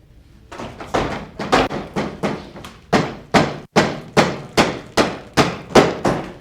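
Someone on a building site doing finishing work drives with a hammer, striking about a dozen sharp, close blows in a steady rhythm with brief pauses between them.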